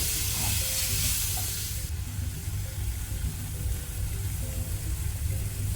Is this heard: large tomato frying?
yes